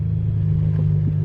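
Infiniti G35 car after a wheel bearing and wheel stud repair, its engine giving a loud, steady low rumble from inside the cabin as it accelerates, brief and without talk.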